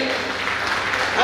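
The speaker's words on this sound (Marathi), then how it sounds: "आणि या दाम्पत्यासाठी टाळ्या वाजवायच्या सगळ्यांनी" Applause for a couple at a get-together of a 1990-91 batch, a crowd's steady clapping forming a continuous patter with talk over it, swelling slightly at the end.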